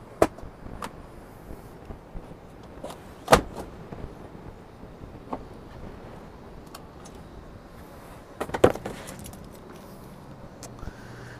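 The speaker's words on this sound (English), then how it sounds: "Folding down the seats is easy." Rear seats of a 2015 Chrysler Town & Country Touring are folded down in a quiet interior, with scattered clicks and latch snaps and two louder thuds of seatbacks dropping, followed by light rustling.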